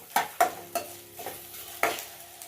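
Lengthwise-sliced onion frying in about a tablespoon of oil, pushed around in the pan: five distinct scraping stir strokes over a light, close sizzle, with no speech.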